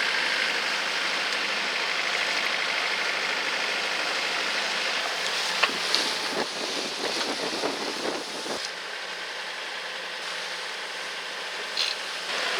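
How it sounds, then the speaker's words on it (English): Steady low drone of a sailboat's engine with wind rushing across the microphone, continuous throughout, no voices. "Engine is still on."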